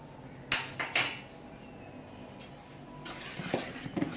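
Flour, baking powder and cardamom being mixed in a bowl: faint scraping with a few sharp clinks of a utensil against the bowl, quiet and close.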